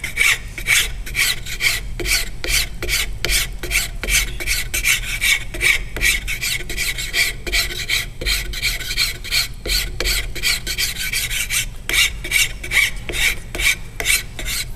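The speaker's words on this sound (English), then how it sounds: "So I'm going to switch over to a file." A hand file worked over a piece of wood, cutting on the push stroke: close, steady rhythmic scraping strokes repeating roughly every half second, loud and alone with no talk.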